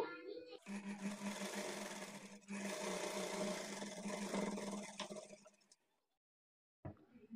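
A sewing machine stitches the side joint of a blouse, running in a fast, continuous whir for about five seconds before stopping, followed by silence and a brief clack.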